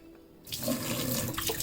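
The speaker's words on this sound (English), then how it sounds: "I poured some water out" Water pours out of a can in steady, continuous splashing that begins abruptly and keeps a fairly even level throughout.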